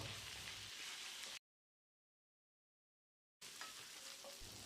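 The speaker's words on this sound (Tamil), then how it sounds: "இதையும் போட்டு ஒரு 10 செகண்ட் இதை பரட்டி விட்டுடலாம்." Oil sizzles and crackles steadily as curry leaves and ginger fry, the hiss cutting out abruptly for a couple of seconds before resuming just as strongly.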